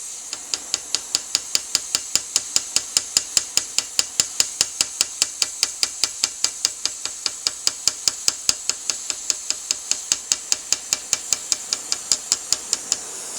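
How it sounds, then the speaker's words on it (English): A hammer peens the orange-hot head of a screw on an anvil, doming it while repairing a Mauser 71/84 barrel band: a long, steady run of sharp metallic strikes, about four per second, close and even, with no talk. "So I'm walking the hammer around this way. So I'm dome heading this screw and I'm just flattening it out"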